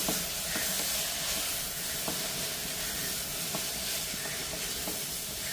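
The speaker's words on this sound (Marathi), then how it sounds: "चला आता हे परतून घेऊया." Mixed vegetables with plenty of coriander are stir-fried in a pan, giving a broad steady hiss of sizzling with faint intermittent scrapes of stirring, moderately loud and close throughout.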